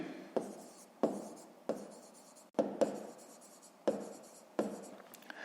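Pen on paper while writing out digits for a fifth-grade maths exercise: short scratchy strokes in a steady series of about eight taps and scrawls, close up and alone.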